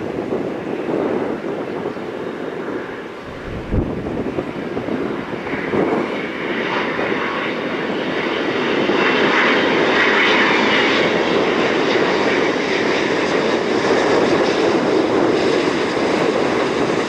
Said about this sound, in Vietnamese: Bây giờ chiếc máy bay Airbus A350-900 đang bước vào hạ cánh tại sân bay Tân Sơn Nhất.